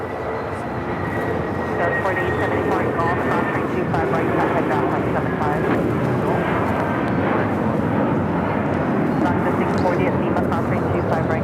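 A Cathay Pacific airliner departing Los Angeles International Airport, a broad steady jet roar holding loud and continuous throughout, with a faint thin whine riding above it and a voice talking over it.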